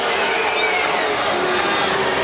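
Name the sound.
volleyball crowd reacting unhappily to replay decision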